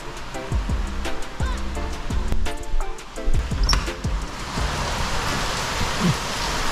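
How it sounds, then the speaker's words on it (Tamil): Steady heavy rain driven by strong wind hisses on surfaces, loud and close, with irregular heavy drips and thumps early on before the downpour settles into a constant wash. "நான் சொன்னேன் இல்லையா, சரியான மழைங்க."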